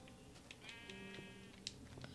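A sheep in classic Minecraft on Xbox bleats several times in quick succession, soft but clear game sound effects with no speech over them.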